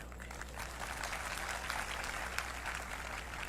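Audience applause during a Hindi speech about a high court judgment, a soft, diffuse patter of many hands clapping, fairly distant and steady, with a low hum underneath.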